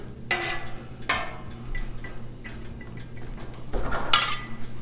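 Oiled food is mixed on a Blackstone griddle for a taco skillet: a metal spatula clanks and scrapes against the hot flat-top in a few sharp strikes, with a steady low sizzle underneath.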